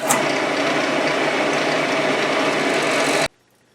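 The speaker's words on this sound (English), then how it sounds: "I should be able to turn on the lathe and have it spin nice and true." A wood lathe spins a chisel handle, a steady loud motor whir and hum running evenly for about three seconds before cutting off abruptly to near silence.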